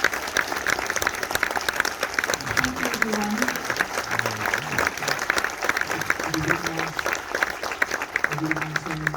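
Audience applause for a director at a London action festival screening, steady and sustained from a packed room, with a voice speaking over the clapping.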